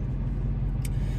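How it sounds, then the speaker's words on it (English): A parked car pulls away close by, a steady low engine rumble running throughout with no voices. "the car next to me is leaving"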